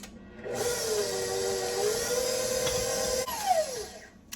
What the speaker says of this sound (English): let's go ahead and blend slowly and move it up